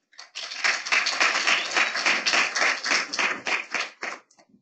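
A conference audience applauds at the close of a series of short talks, a dense, steady round of clapping that swells quickly, holds for about four seconds, then thins out to a few scattered claps.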